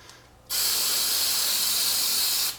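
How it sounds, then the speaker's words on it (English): A steady two-second hiss of vinyl wrap remover sprayed from a can onto a vehicle's old wrap, starting abruptly and stopping cleanly, close and alone. "You can literally just spray it on like that."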